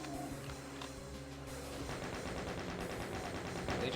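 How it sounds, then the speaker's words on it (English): Monsters trading rapid gunfire in the Doom mod UAC Ultra, a dense stream of overlapping shots with no talking. "They just start shooting each other."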